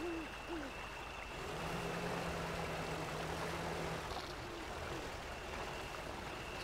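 A truck engine idles in the Spintires off-road driving game as a steady, loud, low rumble that runs the whole time, with faint tonal blips over it.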